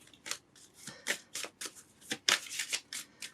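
A slippery Hedgewitch Botanical Oracle card deck being shuffled by hand, a quick run of crisp riffling and slapping bursts at close range, with no voices.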